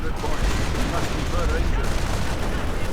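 Sustained .30 caliber machine gun fire and battle noise in a World War II style real-time strategy game, a dense continuous rattle with a commentator talking over it.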